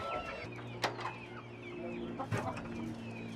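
Chickens clucking softly in a coop nesting box, low repeated clucks and a couple of sharper calls, fairly close with a steady hum beneath.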